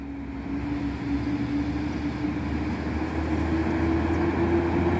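A coach pulls into Cuiabá bus station in the morning, its engine giving a steady, loud diesel drone with a low hum that stays constant throughout, with no talking.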